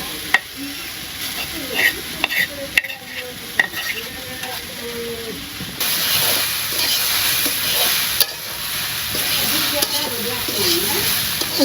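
Fish frying in a pan in a village kitchen: a steady sizzle with clinks and stirring noises at first, then a louder, denser hiss of frying. Faint voices can be heard in the background.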